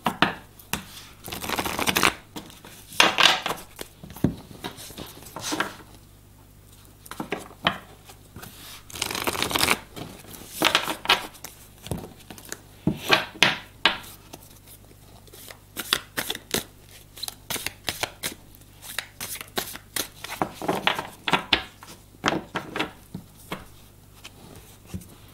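Tarot cards are shuffled repeatedly for a reading, a close, crisp riffling and flicking that comes in irregular bursts with short pauses between them.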